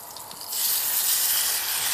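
Turbot fillet laid on a hot oiled grill, a sudden bright sizzle that bursts in after a quiet moment and holds steady and close.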